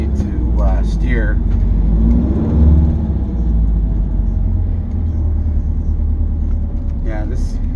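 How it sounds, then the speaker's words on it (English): Road traffic passes around a restored 1956 Greyhound bus on a road test. A steady, loud engine rumble and road roar fill the whole stretch, with a voice briefly talking near the start and again at the end. "this little bit of traffic going on here."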